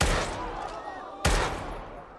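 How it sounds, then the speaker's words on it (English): Two loud, sharp gunshots about a second apart in a Squid Game scene where a guard shoots a man, each a sudden close blast followed by a brief ringing decay over a noisy background. "she shot him 2 more times to make sure his organs couldn't be harvested"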